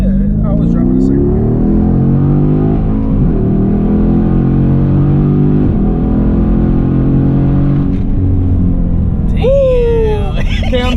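A 2014 Jeep Grand Cherokee SRT accelerates hard from inside the cabin, its engine droning loudly with steadily climbing pitch, and a voice briefly speaks near the end.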